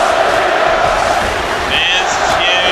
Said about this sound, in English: Fans cheering for Dolph Ziggler.